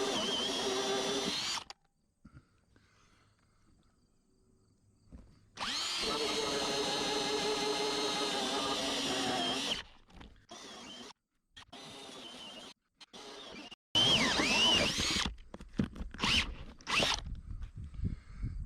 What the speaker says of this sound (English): This is a 4 1/8 inch hole saw